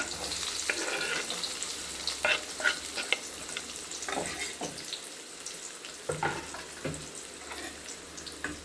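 Onions fry in a pan for egg fried rice, a continuous sizzle broken by scattered stirring clatters and scrapes, close and moderately quiet, with no voices.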